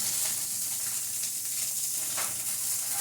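Chicken wings for a lemon pepper batch brown in hot oil, with a constant, close sizzle and crackle that holds at an even level throughout, with no talking.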